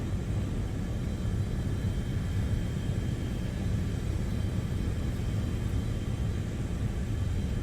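An F-4E Phantom jet on afterburner in War Thunder gives a constant, loud, dense roar with a deep rumbling low end, unbroken from start to finish with no voices.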